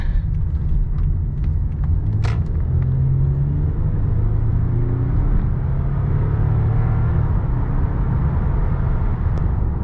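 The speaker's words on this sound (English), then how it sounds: "I'll do a little bit of a heavier acceleration, see if it makes the noise any louder or anything like that" A 2009 Lexus ES350 sedan accelerates hard, its engine and road noise forming a steady, loud low rumble with rising harmonic tones throughout.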